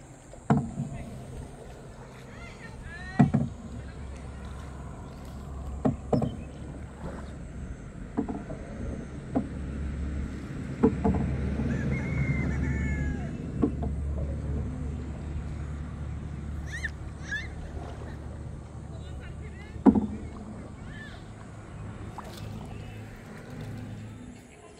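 A small boat glides across a farm house lake, with steady low engine or water rumble, splashing and occasional knocks against the hull, mixed with wind and distant voices.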